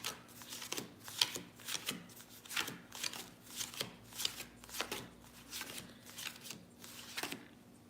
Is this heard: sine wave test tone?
no